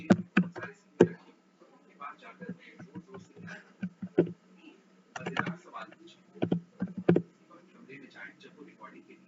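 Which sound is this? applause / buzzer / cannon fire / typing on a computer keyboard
typing on a computer keyboard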